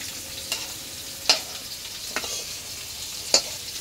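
Fish shallow-frying in a pan in a home kitchen, a steady soft sizzle with a few sharp spatters and utensil clicks breaking through at intervals.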